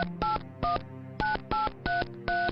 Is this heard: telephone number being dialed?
yes